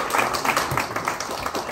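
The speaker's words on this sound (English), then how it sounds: "Let's give him a big round of applause" Brief, steady applause from a workshop audience honoring Mitch Singer, a dense patter of many hands clapping at moderate loudness with no talk over it.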